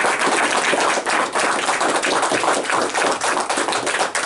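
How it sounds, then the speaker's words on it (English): A room full of people gives a sustained round of applause to honor a retired Air Force veteran, dense steady clapping filling the space without pause. "give Mr. Long a round of applause for his efforts"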